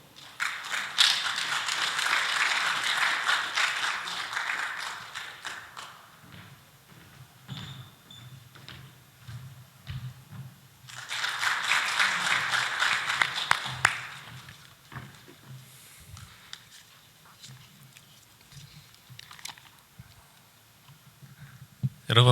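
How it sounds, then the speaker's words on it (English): Conference audience applauds at an opening ceremony in two sustained bursts of clapping, with quieter stretches and some talk between them. "Please give him a big round of applause."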